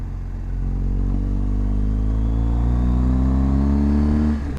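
A BMW R 1250 GSA motorcycle engine at high altitude near Pangong Tso, Leh, revs steadily under heavy throttle, its droning pitch climbing gradually over several seconds before cutting off abruptly at the end.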